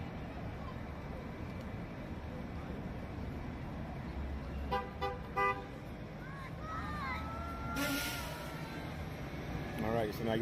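A car horn gives a couple of short honks over steady outdoor traffic rumble, with people talking nearby.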